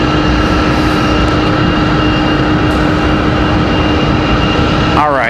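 A United Boeing 737-900 at Raleigh-Durham airport gives a loud, steady jet engine roar with a constant whine riding over it, ending in a brief sweeping tone.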